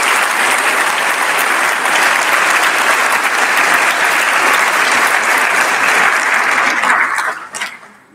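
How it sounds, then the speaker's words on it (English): A high school senior awards ceremony audience gives a round of applause, a dense, loud, sustained clapping that holds steady for several seconds before tapering off abruptly at the end. "Please give Meg a round of applause."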